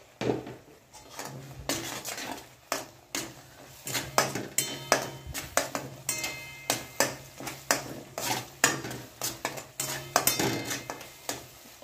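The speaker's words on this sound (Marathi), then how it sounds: "ते फ्राय करायला टाकलं आहे. आता आपण त्याच्यामध्ये सुके मसाले घालून घेऊ, ते पण छान फ्राय होतात" Onion paste and dry spices for pav bhaji fry in a pan while a spatula scrapes and knocks against the metal in regular rhythmic strokes, with only a faint sizzle underneath.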